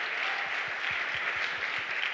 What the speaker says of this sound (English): as good as the applause is